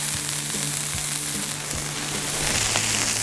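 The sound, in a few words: smash burger patties frying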